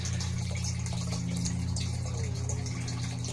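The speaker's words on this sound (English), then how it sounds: "The little pump pumps water up, and the pump doesn't stop." Small pump pushing water through a 3D printed bell siphon, a steady low motor hum under continuous trickling and splashing water, close and unbroken.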